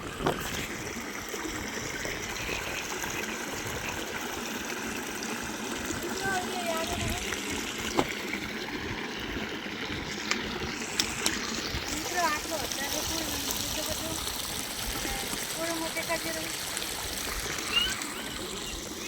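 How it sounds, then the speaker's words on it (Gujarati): A stream of water flows down below, a steady broadband rush that runs throughout at moderate level beneath people talking. "નેચે કેવું પાણી આવે છે જોઈ શકો છો."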